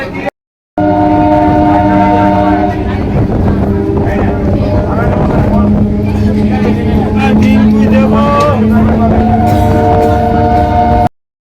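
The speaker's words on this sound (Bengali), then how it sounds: "আমরা এই মুহূর্তে রয়েছি ব্যান্ডাল স্টেশনে" Train at Bandel railway station, a loud steady rumble of the moving train with sustained horn tones sounding over it for most of the stretch, close by and dominant.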